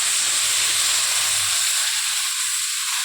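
Water poured into a pan of frying potatoes and tomato with ginger and green chilli sets off a loud, continuous steamy hiss and sizzle that fades slightly toward the end.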